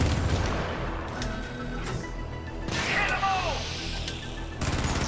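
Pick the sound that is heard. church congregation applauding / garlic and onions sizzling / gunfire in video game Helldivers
gunfire in video game Helldivers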